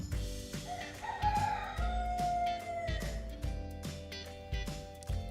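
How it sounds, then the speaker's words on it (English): A loud rooster crow from a toy farm barn playset rings out over a steady rhythmic electronic backing tune with regular thumping beats, the crow a single drawn-out call in the first half. "Here's the loud rooster."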